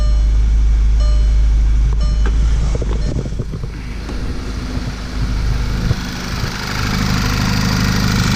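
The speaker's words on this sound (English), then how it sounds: "A little bit of transmission chatter with that single mass flywheel, but it's actually not that bad" A Mk6 GTI with a single mass flywheel and a Stage 4 clutch idles with a steady low engine drone, and a light rattling transmission chatter runs through it.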